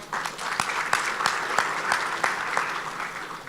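Audience applause at a Moroccan conference on industrial zones and agropoles, a steady patter of many hands with sharper individual claps standing out, moderately loud and continuous without voices.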